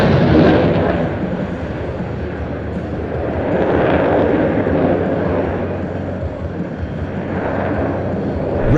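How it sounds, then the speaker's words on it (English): A French Air Force Rafale omni-role fighter jet performing a fast-jet flying display at NATO Days 2025, its loud, rumbling engine roar swelling and fading as it passes overhead. "It's one of the most exciting fast jet displays on the circuit today"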